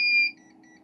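A single short, high electronic beep from a ZEGOR device under a heavy load of over 100 amps, likely a voltage warning, sounds at the start, then fades into a faint low hum.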